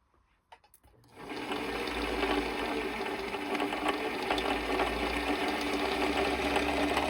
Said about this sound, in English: this seems to be sewing pretty fast, which is actually good, and I'm barely touching the foot pedal